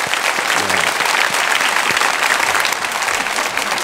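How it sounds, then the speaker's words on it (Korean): A church congregation at a Friday worship service claps in thanks, a loud, full and continuous round of applause filling the hall from start to finish with no speech on top. "다시 한번 감사의 박수 드립니다."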